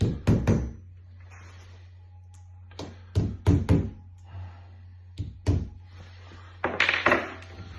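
Plugs are tapped into a column radiator in short clusters of sharp, close knocks and thunks with quiet gaps between them, over a low steady hum.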